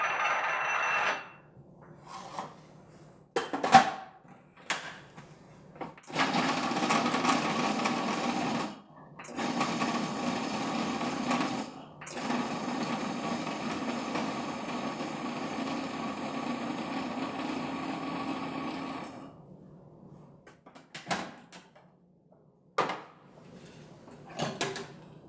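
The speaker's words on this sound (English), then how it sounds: "So all of that into the food processor." A food processor whirs in long loud bursts, grinding soft pitted medjool dates and nuts into a raw key lime pie crust, with short pauses and clunks of the lid between runs.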